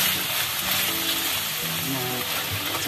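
Chicken for sambal goreng fries in hot oil, giving a steady, close, dense sizzle that holds at an even level for the whole moment, with a faint low hum beneath.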